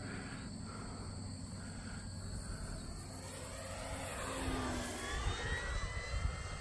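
An E-flite Focke-Wulf Fw 190A 1.5m electric RC model plane passes overhead, its steady motor whine swelling slightly as it nears, heard at a distance over light breeze, with no talking.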